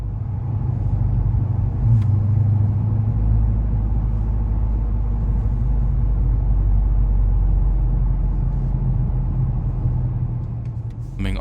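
A 2022 Dodge Charger R/T heard from inside as it drives through a bend, a steady low engine and road rumble holding constant throughout without obvious revving.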